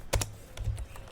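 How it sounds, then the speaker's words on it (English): Keys clack on a laptop keyboard in a few quick, crisp taps, close and fairly quiet, with nothing else heard. "press tab button to go into the alternate DNS server and type in"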